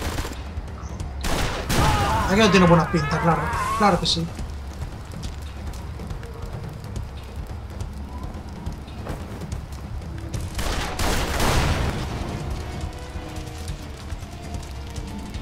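Gunfire bursts from the Western-noir video game Blues and Bullets, a few sharp volleys early and again near the middle over a low ambient bed, with Spanish speech briefly heard.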